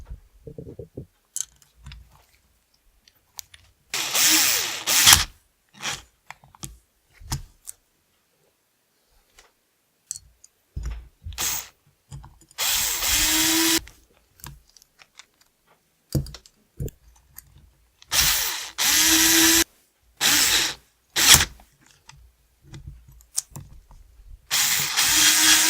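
Bursts of a power wrench whir in short, loud runs separated by pauses and clicks while screws are driven during a Losi 5ive T RC kit build, with no talking.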